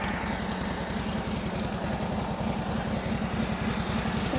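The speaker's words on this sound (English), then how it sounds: "Engine sounds really good," A 1942 Harley-Davidson WLA motorcycle engine idling shortly after a cold start, with a steady low, rapid chugging pulse, close and even throughout without talk.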